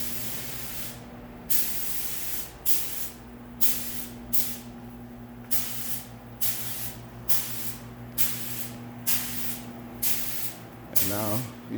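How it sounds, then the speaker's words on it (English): A spray gun lays clear coat onto a BMW 6 Series during refinishing. Roughly ten short bursts of loud, close hissing come in an even rhythm over a steady low hum, with a brief mechanical clatter near the end. "And now he's about to shoot some clear coat."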